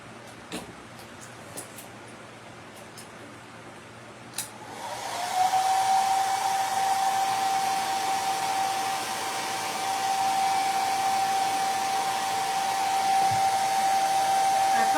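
A hair dryer switches on after a few faint clicks and blows in a steady, fairly loud whine for about ten seconds, drying a wet handmade mummy door-sitter hat, with no talking.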